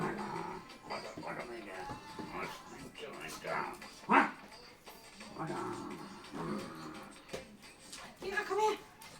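A dog playing with socks gives short yips and barks indoors under near-constant German chatter from several people, with one sharper bark standing out midway.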